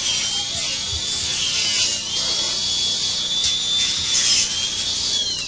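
A safe-sided diamond disc on a dental handpiece trims the ends of a dental clutch, giving a thin, high grinding whine that wavers in pitch as it cuts, steady and close with no talking.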